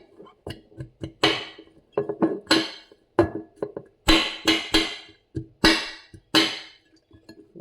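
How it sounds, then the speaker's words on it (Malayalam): Chopped shallots and garlic are pounded in a vessel, giving sharp, close knocks with a clinking edge, about a dozen uneven strikes with short pauses and no talking. "ഇത്രയും നമ്മൾ അരിഞ്ഞത് ജസ്റ്റ് ഒന്ന് ചതച്ച് വെക്കട്ടെ"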